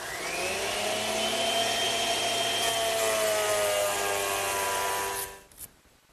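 A woodworking planer takes a thin pass off a wooden post for a Mission-style sofa, a steady loud whining machine roar held for about five seconds before it winds down and stops.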